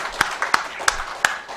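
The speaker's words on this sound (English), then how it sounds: "give a good clapping hand for." A handful of sharp, evenly spaced claps, about five in under two seconds, fairly quiet and thin rather than a full ovation, honoring a doctor at a medical education session.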